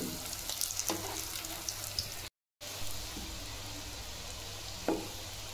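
Beet cutlets frying in a pan with a steady, close hiss of oil, broken only by a brief dropout and an occasional soft clink or pop.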